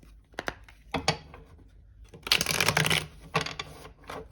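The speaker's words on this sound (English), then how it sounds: "Okay, one last shuffle." Tarot cards are shuffled up close: a few crisp riffles and taps, then a longer rapid flurry of cards, followed by several quieter shuffles.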